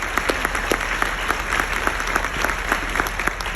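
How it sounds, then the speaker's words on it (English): Applause from an audience at a speaking event, a dense crowd of hands clapping with sharp individual claps popping out, steady and fairly close throughout with no voices on top. "we should clap for that"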